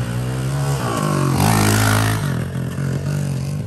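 A motorcycle engine revving on a warm-up lap during training, loud and close, with a steady throbbing drone that swells and rises in pitch mid-way before settling back.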